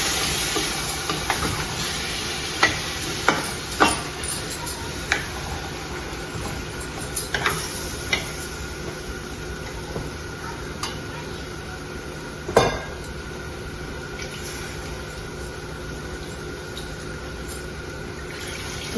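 Tamarind water is stirred into a pot of chamagadda pulusu. A low simmering hiss runs throughout, broken by irregular scrapes and clinks of a metal spoon against the pan, with one louder knock partway through.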